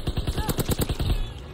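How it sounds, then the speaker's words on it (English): Grease gun submachine gun in Call of Duty WW2, firing a rapid burst of about a dozen close, punchy shots in quick rhythm. "The grease is a good gun, guys."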